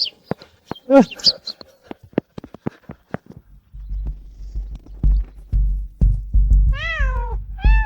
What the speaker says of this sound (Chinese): 哪来这么多野猫？